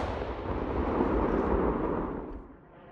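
A continuous rumbling roar of a mass artillery barrage in the Russo-Ukrainian War, dense and loud, sustained before tapering off toward the end.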